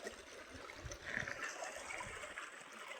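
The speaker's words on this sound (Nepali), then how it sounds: "खोला आइपुगेको छौँ है माछा मार्न" A mountain stream gurgles and trickles faintly, a soft, continuous babble of flowing water with small splashes, heard alone and at some distance.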